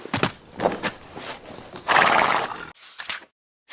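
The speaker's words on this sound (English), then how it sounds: "he hopped off his horse." A horse neighs loudly and shrilly, with a clip-clop of hooves in a children's fairy-tale setting, the whinny rising and breaking off abruptly before a brief, quieter tail.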